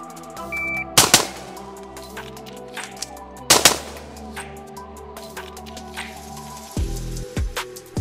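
Loud, close pistol shots in a shoot-reload-shoot drill: a quick pair of sharp cracks, a pause through the reload with faint handling clicks, then another quick pair, all ringing out over steady background noise.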